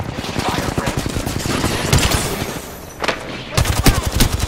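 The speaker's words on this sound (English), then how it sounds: "That was the other team shooting me in the back" Rapid video game gunfire, loud bursts of automatic shots in quick repeating rhythm with brief pauses between volleys, close and dominant, with some speech mixed in.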